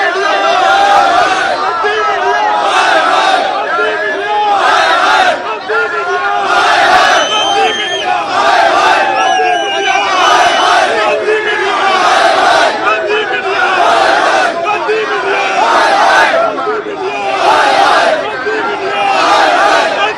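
A huge crowd of protesting farmers at an outdoor mahapanchayat rally shouts slogans in loud, rhythmic bursts, with many voices roaring together again and again over a constant close-up din.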